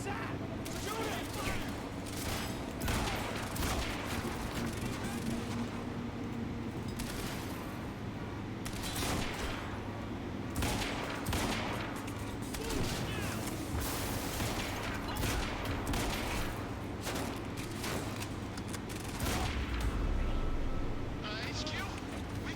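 Gunfire and explosive booms from the video game Quantum Break ring out repeatedly through a dense action-game soundscape, with shouting voices and dialogue running underneath the shots.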